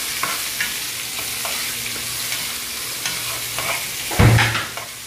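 Chopped tomatoes fry in a pan for ampalaya with egg, a soft steady sizzle with a few stirring scrapes and a louder clatter of the spatula near the end.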